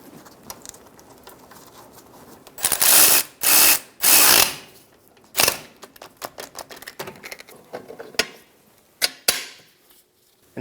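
A ratchet tightens a bolt and nut on a Subaru Outback rear strut assembly, giving several rapid clicking runs up close followed by scattered lighter clicks and metallic taps.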